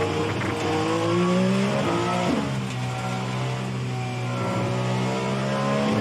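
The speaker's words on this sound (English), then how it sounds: "I can feel a lot of road noise, vibrations." Dallara IR18 IndyCar engine and road noise in the rFactor 2 racing sim: a steady, loud mechanical drone whose pitch dips and climbs as the car works through gears and corners, with no talking.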